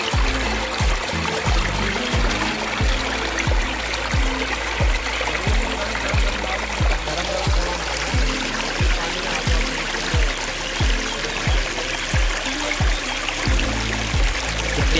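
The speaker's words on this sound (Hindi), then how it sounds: "प्यारे से वाटरफॉल से पानी आ रहा है फ्रेंड्स, और ये आगे जाके गंगा बैया में मिल जाएगा।" A mountain waterfall stream near the Ganga at Kotli Bhel village, Rishikesh, rushes and splashes continuously over rocks, loud and close, with a steady broadband roar and no voices.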